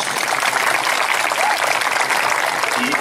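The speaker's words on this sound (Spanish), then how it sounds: "Un fuerte aplauso para todos ellos." Loud, dense audience applause for a film production crew at a screening event, continuous clapping filling about three seconds, with a faint voice or whistle briefly rising above it.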